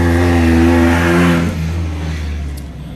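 An off-road race truck roars past at the Wild West 100, a loud, close engine drone that holds strong and then fades as it moves away, no voices.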